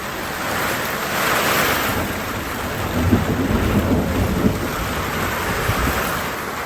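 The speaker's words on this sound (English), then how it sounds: "it started to rain, and from every possible side" Dense, heavy rain in Jujuy roars steadily with gusty wind and a low rumble underneath, loud and continuous throughout without any voices.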